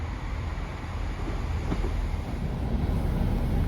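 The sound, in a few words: train at Leamington Spa station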